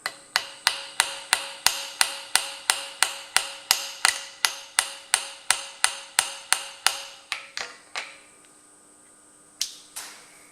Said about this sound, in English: I just get a little hammer